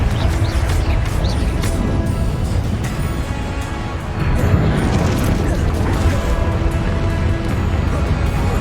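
A Confringo fire spell in Hogwarts Legacy goes off as a burst of explosive booms and crashing debris, loud and dense over game ambience, with a brief dip before more blasts.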